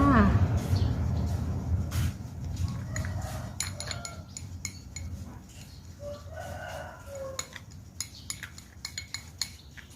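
Homemade vaseline aloe vera gel is scooped into a jar with clinks and scrapes of a spoon against glass, scattered irregular taps near and fairly light, while someone talks over them at the start.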